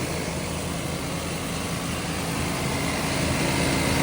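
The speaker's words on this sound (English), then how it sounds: "There's that Smog pump functioning." A smog pump runs on the original numbers-matching engine of a 1968 Shelby GT350 convertible, giving a steady, dense whirring hum that stays even and close throughout.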